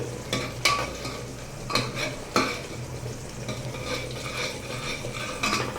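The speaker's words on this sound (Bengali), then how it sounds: "ডালটাকে আমি একটু নেড়ে চেড়ে নিচ্ছি" Chana dal being stirred in a hot pan, a spoon scraping and clinking in a few distinct strokes over a steady sizzle of frying, close and fairly loud with no talk.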